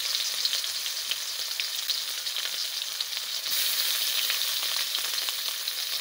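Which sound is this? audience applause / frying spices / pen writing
frying spices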